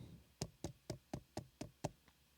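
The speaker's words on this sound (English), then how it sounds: "think of yourself as politely knocking on someone's desk" Knuckles knocking on a desk, eight evenly spaced, crisp knocks at a polite steady rhythm, close and quiet, with no talking.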